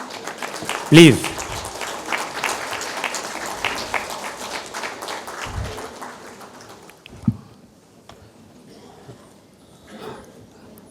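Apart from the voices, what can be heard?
audience applause, standing ovation for keynote speaker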